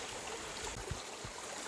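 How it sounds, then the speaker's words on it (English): A brook flows along a hiking trail in the Adirondacks on the Northville Placid Trail, a soft steady trickling wash with some breeze, faint and continuous, with no talking. "just enjoying this brook here"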